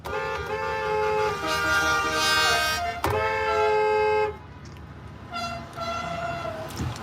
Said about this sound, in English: Feel like I'm in New York right now with all the honking.